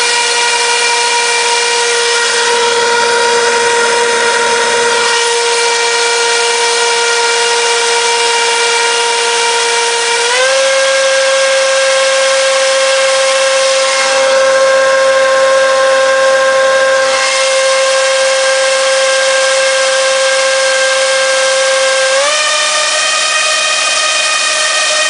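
Two brushless motors driven by a single ESC spin propellers under load, giving a loud, continuous high-pitched whine that steps up in pitch twice and holds steady, with no voices.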